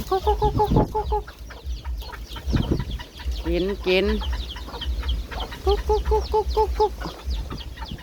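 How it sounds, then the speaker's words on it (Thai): Chickens cluck in short repeated bursts close by, with a rooster-like call in the middle and brief speech mixed in. "ถ่ายเป็ดถ่ายไก่นี่แหละจ้า"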